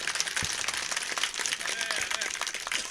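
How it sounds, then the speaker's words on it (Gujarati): An audience at a Gujarati bhajan satsang claps together. Dense, fairly distant applause fills the whole stretch at moderate loudness. "એને તાળીઓથી વધાવો"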